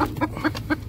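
A hen clucks close by, four or five short, quick clucks in a brief rhythmic burst.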